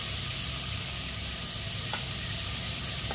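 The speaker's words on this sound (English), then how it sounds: "And then we have to saute." Tomato sautéing in a pan for an Indian fish hammour curry gives a steady, close sizzle with a continuous frying hiss and no talk.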